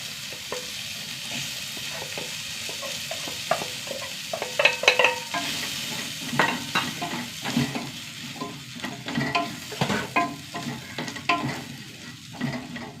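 Onion and spice powders (coriander, garam masala, turmeric, chili) sautéing in a pan, a soft steady sizzle under repeated scraping and clinking stirring strokes, close and moderate in volume.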